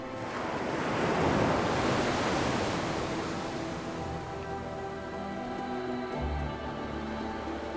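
Ocean waves and surf on an Atlantic beach, where capybaras bathe in salt water. A steady, broad wash of breaking surf swells loudest early on, then settles into a continuous roar, with wind noise on the microphone.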